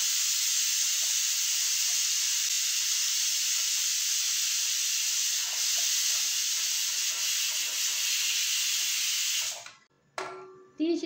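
A pressure cooker on the stove steadily hisses steam for several seconds while kadhi cooks, a loud continuous whistle-like rush that cuts off abruptly near the end, followed by brief clatter.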